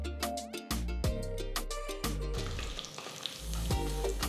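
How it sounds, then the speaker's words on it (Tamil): Sharp, busy crackling and popping of mustard seeds sputtering in hot oil while tempering for tomato rice, mixed with clattering and ringing tones. "1 டீஸ்பூன் கடுகு சேர்த்து, பொரிஞ்சதும் 1 டீஸ்பூன் சீரகம் சேர்த்து"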